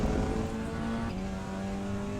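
Touring race car engine in a WTCR racing game at a German circuit, a steady close drone holding pitch and then dropping as the driver brakes hard, with no talking.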